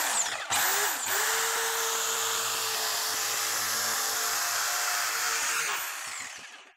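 An electric foam cutter slices through thick upholstery foam for a custom bench seat cushion. Its loud, steady motor whine starts with a brief stutter, holds for several seconds close by, then winds down.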